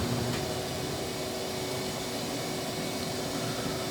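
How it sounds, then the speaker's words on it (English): Steady, loud whirring roar of a bandsaw with a dull blade working through a cypress board, constant and unbroken with no voices. "this is where I'm cutting this out, and I realized that I've got a very dull blade on my bandsaw"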